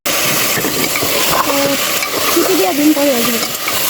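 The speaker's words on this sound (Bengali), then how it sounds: "এই পর্যায়ে এখন আলু আর গোস্ত একসাথে কষাবো" Beef and potato pieces sizzle and fry together in a pot for a beef curry, with steady close frying noise and scraping clinks of a spoon stirring against the metal.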